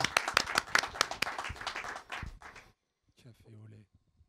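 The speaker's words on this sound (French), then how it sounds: "Merci Amara, on t'applaudit." Audience clapping at a French open-mic gathering, a burst of claps for a participant lasting about two seconds, then fading into a pause before a voice speaks briefly.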